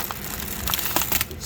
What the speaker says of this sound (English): the ubiquitous Chinese plastic bag